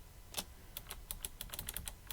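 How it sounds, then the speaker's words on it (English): A computer keyboard is tapped in a quick irregular run while Shift is held and the H, J, K and L keys are pressed, giving about a dozen crisp, close clicks in a quiet room. "if I hold down Shift and then use H, J, K, and L from the keyboard"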